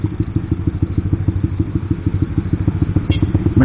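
A motorcycle with an aftermarket exhaust idles close by, giving a loud, fast, lumpy pulsing burble with regular thumping beats.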